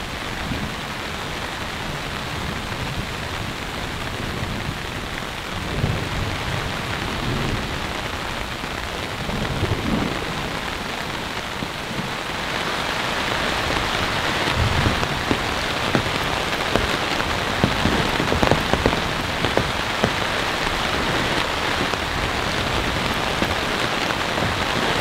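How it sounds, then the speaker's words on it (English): Steady rain falls on a campsite during a thunderstorm, a dense continuous patter that grows heavier partway through, with low rumbles of thunder in the distance. "I think we'll hear some thunder, we'll see some flashes,"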